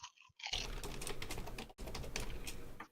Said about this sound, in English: I'm just gonna type in the password for you.